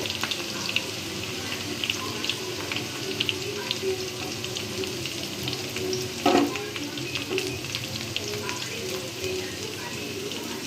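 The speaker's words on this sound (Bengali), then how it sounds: "এখন আমি এর মধ্যে পেঁয়াজ দিয়ে দিব। পেঁয়াজগুলো হালকা বাদামি করে ভেজে নেব।" Onions dropped into hot oil and fried until lightly browned, a steady close sizzle and crackle running throughout, with water-like hissing and a brief louder clatter midway.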